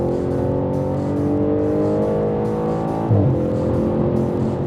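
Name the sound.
Audi RS5 4.2 V8 engine with fast S-Tronic gear shifts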